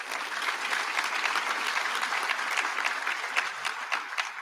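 A commencement audience applauding a recognized recipient, dense sustained clapping from many hands, steady and fairly loud throughout with no talk.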